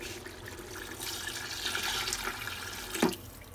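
Water poured from a jug into a large pot of biryani with potatoes, a steady splashing pour lasting a few seconds at close range, ending with a short louder splash near the end.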